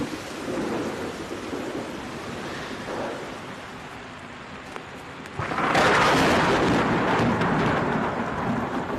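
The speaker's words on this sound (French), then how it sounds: "je n'ai jamais vu un orage pareil" A heavy mountain thunderstorm with steady rain and rolling thunder, a low rumbling wash that swells into a louder, denser roar partway through, with no voices.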